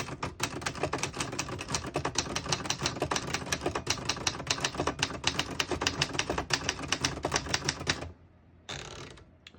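Rapid clacking of a 1973 Remington portable manual typewriter, a dense run of crisp key strikes for about eight seconds, then a pause and a short final burst.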